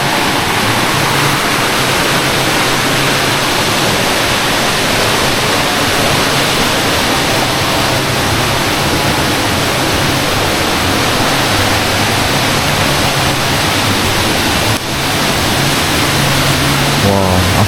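A river flows beside a village in the middle of the forest, its loud, constant broadband rush filling the whole span with an unbroken roar and only a brief dip toward the end.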